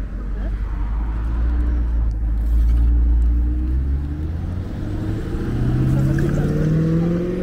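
A nice car's engine rumbles close by and then revs, climbing in pitch over several seconds. Voices talk faintly in the background.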